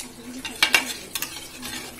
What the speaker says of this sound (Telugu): నీళ్లు పోసిన తర్వాత బాగా కలుపుకోవాలి